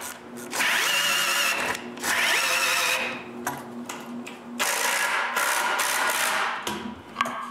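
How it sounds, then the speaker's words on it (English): A power drill bores pilot holes into a wooden block for a wooden bandsaw build, in several loud, sustained bursts of whirring with brief pauses between them, close up and without talk. "After drilling some pilot holes, I can screw the block in place."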